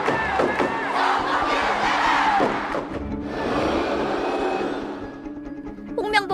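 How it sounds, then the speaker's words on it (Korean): Football fans in a stadium at a World Cup third-round qualifier against Palestine roar and chant together, a loud massed crowd calling out in rhythm, then thinning toward the end. "관중들이 정몽규 축구협회장과 홍명보 감독의 퇴진을 외칩니다."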